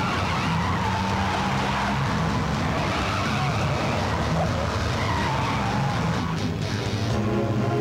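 Car tires skid and screech during a chase in an action movie, a loud continuous squeal over engine roar that lasts throughout with no pause.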